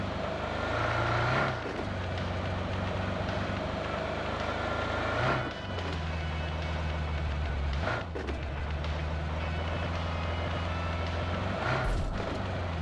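A vehicle drives steadily in the BGMI video game, its engine a constant moderate hum that shifts pitch at a few gear-change-like dips, with no talking.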